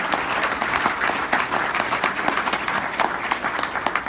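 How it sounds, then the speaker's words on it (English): A lecture audience applauds steadily and loudly, a dense, even clatter of many hands clapping that holds for several seconds. "give her a round of applause for that."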